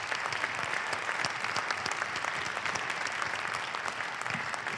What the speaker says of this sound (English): Another round of applause for Jack and our other soloists.